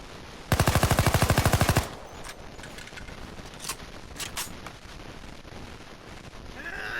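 Skorpion (Cobra) submachine gun in Payday 2 firing one rapid, loud burst of about a dozen shots lasting just over a second, followed by a few scattered faint clicks and handling noises.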